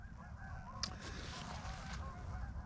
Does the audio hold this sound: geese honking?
yes